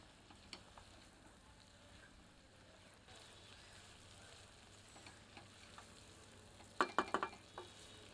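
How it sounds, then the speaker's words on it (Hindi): Fried jackfruit pieces being stirred into sizzling masala in a pan, a quiet continuous fry with a few sharper clinks of the spoon near the end. "मसाले में अब तला हुआ कटहल सम्मिलित करते हैं। इसे मसाले के साथ अच्छे से मिला देते हैं।"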